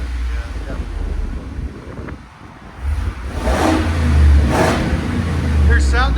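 A 7.3L gas V8 with the resonator deleted revs up on the road, a deep, loud engine roar swelling and holding over steady wind noise, heard from close by.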